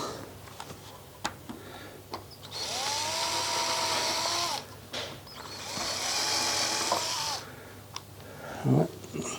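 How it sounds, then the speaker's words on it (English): Power drill boring a centering mark into timber while installing a pattern maker's vise, two sustained whirring runs each lasting about two seconds, separated by short ticks and clicks of handling, fairly close. "just put a mark in the timber so that it's perfectly centered for this drill"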